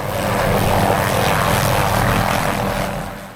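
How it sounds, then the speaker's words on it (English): An MD-500D helicopter doing aerial tree trimming along a railroad mainline drones loud and steady overhead, its rotor and engine noise filling the air before easing slightly at the end. "This helicopter is an MD-500D, described by pilot Alan Stack as the Ferrari of the skies."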